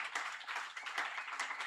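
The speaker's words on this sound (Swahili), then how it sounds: "Hebu tumpigie Yesu makofi." Congregation at a church revival conference's morning session clapping together, a dense steady patter of many hands, fairly faint and unbroken.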